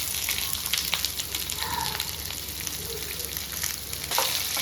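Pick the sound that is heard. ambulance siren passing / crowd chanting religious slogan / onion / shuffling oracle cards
onion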